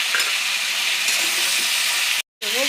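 Ground coriander and cumin powder frying in a pan, a steady loud sizzle with faint stirring scrapes throughout, broken by a brief silent gap near the end.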